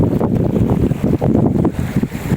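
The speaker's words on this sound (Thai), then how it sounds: "ลมแรงมากเลยวันนี้" Strong wind buffets the microphone beside the Huai Mai Teng reservoir in Chom Bueng, Ratchaburi, a loud continuous roar with gusty surges and no talking.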